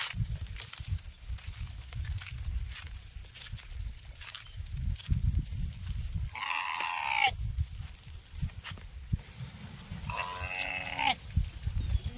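Two sheep bleats, wavering and nasal, stand out over a steady low rumble of outdoor noise, with rustling and footsteps in between.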